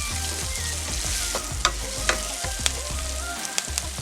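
Tomatoes and Scotch bonnet pepper fry in a pan with a steady sizzle, broken by a few sharp clicks of a utensil stirring, close and without talk.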